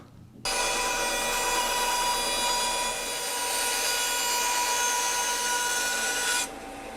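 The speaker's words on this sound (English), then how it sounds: "Okay, I'm gonna cut these on the saw." Saw cutting wooden top braces for a guitar soundboard, a steady loud continuous cut running about six seconds with no talking.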